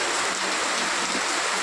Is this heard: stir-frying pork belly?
no